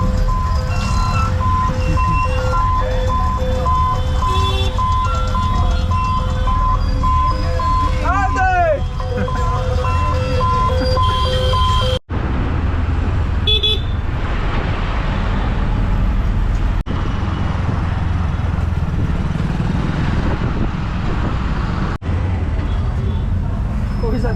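Heavy road traffic waits at a railway gate in Bangalore, with engines droning and horns sounding close by, and a melodic chime like an ice cream van's tune ringing out, all under a continuous loud roar.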